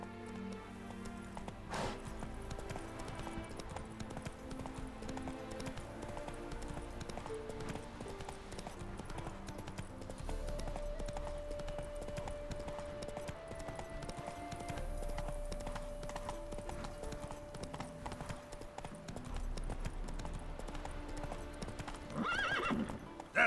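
Roach, a horse in The Witcher 3 video game, clip-clops along at a steady gait with an occasional whinny, under a continuous orchestral game score.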